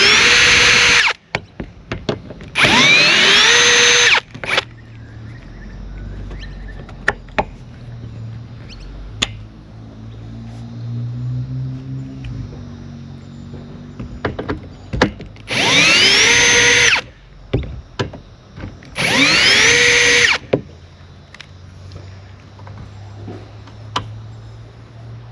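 Power drill driving tech screws into a Jayco pop-top caravan, four loud close bursts of whirring motor rising in pitch, separated by quiet pauses and small knocks.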